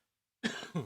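A man coughs twice in quick succession after a moment of silence, close and fairly loud.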